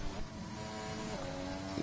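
A race car engine in a racing video game holds a steady, loud drone through the whole stretch, its pitch shifting slightly as it revs near the end.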